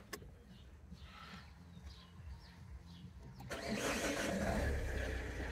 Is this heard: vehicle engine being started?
yes